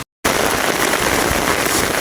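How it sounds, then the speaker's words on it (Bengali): A sudden downpour hammers an open field while someone shelters under a palm tree, producing a dense, loud, steady roar of rain with no voices. "আর এই মাঠে প্রচণ্ড জোরে বৃষ্টি হচ্ছে"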